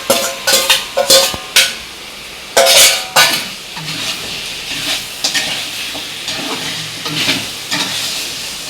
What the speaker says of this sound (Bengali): এবার মাংসটা কষিয়ে নেবো।